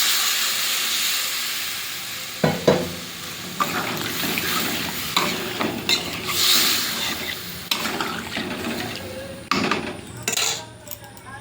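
Prawn curry with potatoes sizzles in a pan after water is added, with steady frying hiss and repeated scraping stirs and clinks of a utensil against the pot, close and fairly loud, no talking.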